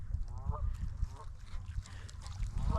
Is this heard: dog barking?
no